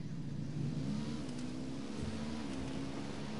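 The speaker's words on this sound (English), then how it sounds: "I'm hearing engine noise" A vehicle engine revs in the Ghost Recon: Wildlands video game, a steady, low droning rumble that holds throughout at a moderate distance, with no voices over it.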